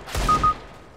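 Two quick gunshots fired close together in a competitive Counter-Strike match on the Mirage map, a sharp loud burst followed by a fading tail, with no voices.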